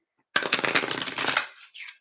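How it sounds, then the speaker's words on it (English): A deck of stiff playing cards is shuffled close by, a rapid crackling riffle lasting about a second, then a shorter second burst of flutter. "I'm just gonna shuffle them. Oh, hopefully they're so stiff."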